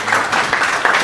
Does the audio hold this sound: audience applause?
yes